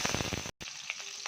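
Onions and tomatoes sizzle and crackle in hot oil with fennel seeds, a brief break in the middle, then softer frying continues.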